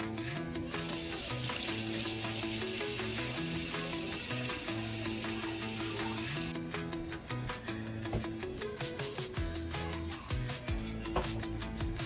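Warm water pours into bagel bread dough as a steady rush of running water that lasts about six seconds, then stops, with music playing underneath throughout and no talking.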